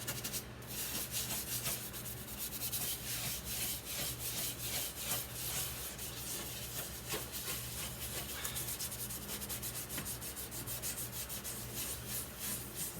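A glass stovetop being scrubbed with baking soda, a continuous gritty rubbing and scouring sound, steady and close throughout with no pauses.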